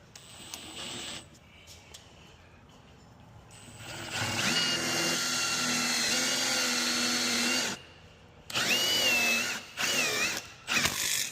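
A power drill whirs steadily for several seconds drilling into a door frame to install a surface-mount door strike, stops, then gives a few shorter bursts, loud and close.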